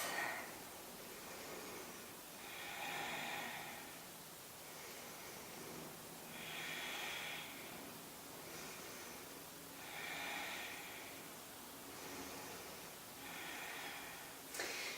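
Slow, deep yoga breaths taken with eyes closed, each inhale and exhale an airy whoosh repeating in a steady cycle over a soft background hiss.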